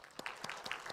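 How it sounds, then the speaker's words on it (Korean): A church congregation applauds during a Sunday service to welcome visiting elders and deacons, a short, fairly quiet burst of scattered hand claps with distinct individual strikes. "우리 인사하실 때 우리 크게 박수로 환영하며 격려하겠습니다"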